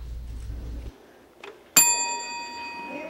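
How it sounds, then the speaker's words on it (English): A single bright bell is struck once, ringing out clearly and decaying slowly, marking a finished care cap for cancer patients in a quiet room after brief low background noise. "When the bell rings, that means that one care cap has been finished."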